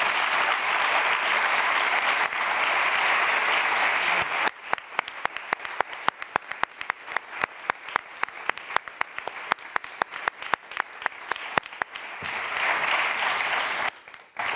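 A conference audience applauds the expert panel at a climate change session, with dense clapping that thins into scattered individual claps before briefly swelling again, moderately distant.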